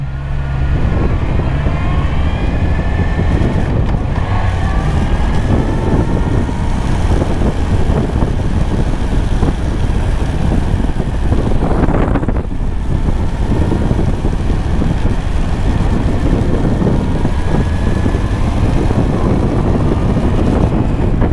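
A big bike motorcycle riding in second gear, its engine a steady loud drone throughout, with wind buffeting the microphone and a brief rising rev midway.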